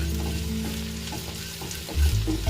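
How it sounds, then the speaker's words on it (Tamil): Mustard seeds, cumin and fenugreek dry roasting in a pan give a steady close rattle and scrape of stirring, with a brief louder scrape near the end and no voices. "இதில் வந்து நம்ம இந்த கடுகு, ஜீரகம், வெந்தயம் அதை வந்து நல்லா கொஞ்சம் ரோஸ்ட் பண்ணி எடுத்துக்கலாம்."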